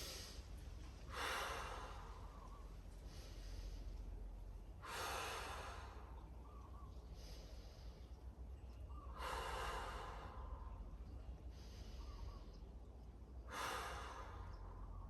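Slow, deep breaths during a mobility exercise, about four long inhale-exhale cycles with audible airy rushes spaced a few seconds apart, close and quiet over a low steady background hum.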